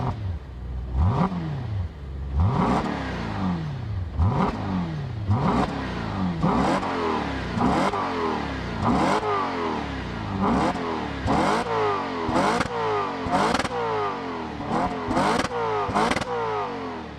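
An Audi RS5 B8 engine revs repeatedly, each rising roar through the exhaust dropping back before the next, about a dozen sharp blips in steady succession, loud and close with no talk.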